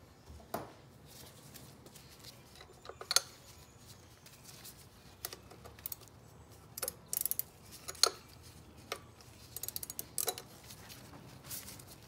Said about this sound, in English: Okay, and the top one is 1/2 inch. Need a wrench for that.